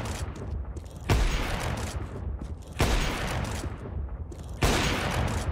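Three evenly spaced, sharp gunshots from aim-training practice in CS2 (Counter-Strike 2), each a hard crack followed by a fading tail, set against a steady low background.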